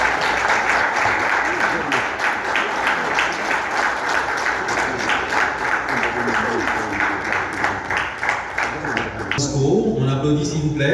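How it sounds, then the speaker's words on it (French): A crowd at a 40th anniversary event of Haiti's electricity workers' unions applauds in dense, sustained clapping that fills the room, with a voice speaking over it near the end. "On applaudit s'il vous plaît."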